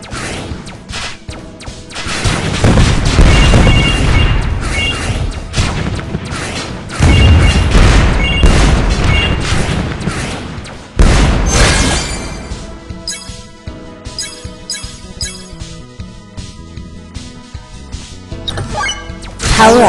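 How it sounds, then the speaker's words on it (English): Loud booming missile explosions and crashing impacts in the WinWing mobile shooter game, arriving in several heavy bursts over continuous game music and effects. "Burning missile."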